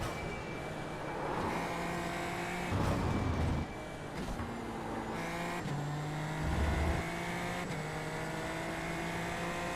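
Super Formula Lights open-wheel race car in the iRacing simulator, its engine droning steadily and loud, rising and falling in pitch as it accelerates and shifts gears through the lap with no talk.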